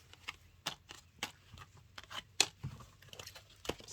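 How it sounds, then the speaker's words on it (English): Tarot cards being shuffled by hand, close up and quiet. The cards give a series of irregular soft riffling and slapping bursts, with gentle rustling between them and no speech. "I'm going to shuffle for a little while longer to see if the energies want any more cards to come out for you."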